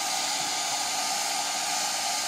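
A blow dryer roars steadily at close range, used to spray airbrush paint onto rayon fabric, a constant loud whooshing hiss with no pauses.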